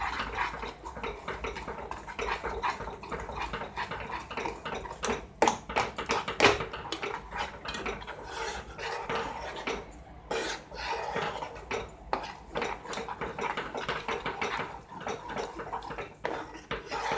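Lemon pickle mixture stirred into sugar syrup in a pan, with a steady run of scraping, clinking spoon-on-metal sounds and small wet stirs, moderately close.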